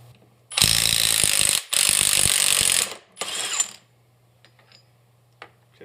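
Power tool, likely an impact wrench, zipping the output yoke nut off a Dana 20 transfer case on a Jeep CJ5 rock crawler: two loud, sustained rattling bursts of about a second each, then a shorter third burst, with quiet shop noise after.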